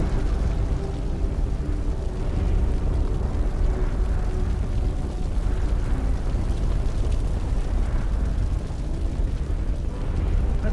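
Fire roars in the video game Blackwood Crossing, a dense, low, rumbling blaze with crackling bursts, loud and constant throughout with no talk over it.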